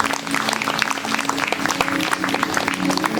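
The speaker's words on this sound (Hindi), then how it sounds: "सब ताली बजाएंगे यीशु मसीह के लिए" A church congregation claps together in sustained, steady applause during a worship service, loud and close, with a faint voice underneath.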